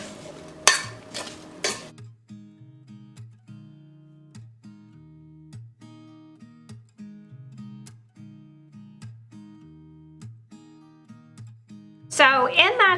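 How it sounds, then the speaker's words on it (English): Potatoes are tossed with seasoning in a bowl, producing a steady run of soft, rhythmic knocks and scrapes from the utensil against it. Brief talk comes before the tossing and again at the end. "Then we're going to toss this all up, make sure that everything is coated really well with all that good stuff."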